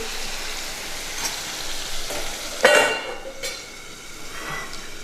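Onions fry in a pan for pav bhaji, a steady close sizzle with a louder scrape of stirring near the middle and a few faint utensil clinks.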